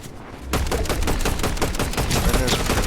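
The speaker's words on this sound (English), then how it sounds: "There I switched to shotgun." Shotgun fire in Fortnite during a squad match, a dense rapid burst of loud blasts starting after a brief lull and continuing steadily to the end, with no talk.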